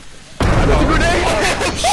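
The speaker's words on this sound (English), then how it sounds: "Was that an explosion?" A grenade blows up in the video game Content Warning, a sudden loud blast followed by sustained rumbling noise, with voices talking over it.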